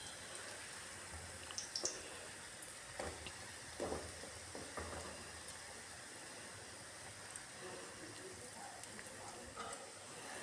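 Potato pakora batter is dropped bit by bit into hot oil, frying with a soft, faint, continuous sizzle broken by a few light clicks and stirring sounds.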